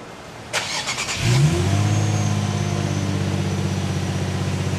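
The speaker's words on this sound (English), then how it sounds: "exhaust note is also very emblematic." A 2007 Infiniti G35 with a large exhaust starts up close by: a brief cranking chatter, then the engine catches with a rising rev and settles into a steady, throaty idle, with no talking.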